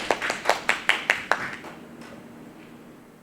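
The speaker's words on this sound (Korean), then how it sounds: "박수로 맞이해 주시면 감사하겠습니다." An audience claps in welcome of a materials science professor before an academic lecture in a conference hall, a short burst of about seven sharp claps that quickly dies away into quiet room noise.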